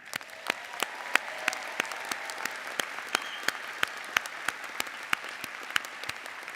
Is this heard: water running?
no